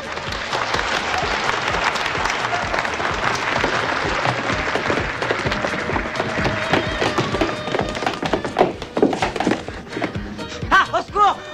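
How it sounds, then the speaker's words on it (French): An audience at a 1977 French variety show breaks into sustained, dense applause, with a few louder, sharper claps standing out near the end. "On l'applaudit."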